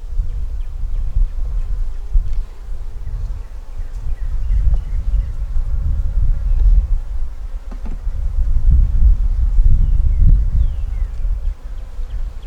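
Honey bees in a hive nuc hum in a low, continuous buzz close by, the drone rising and falling gently with faint rustling throughout.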